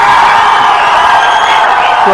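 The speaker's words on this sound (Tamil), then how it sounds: "ரசிகர்கள் அவருக்கு வந்து எப்படிலாம் விசில் அடிச்சு எவ்வளவு கைத்தட்டி வார்த்தை சொல்ல முடியுமோ நீங்க சொல்லலாம்" A hall full of fans cheers for the actor Vijay, a dense, steady roar of crowd noise that stays loud throughout with no single voice standing out.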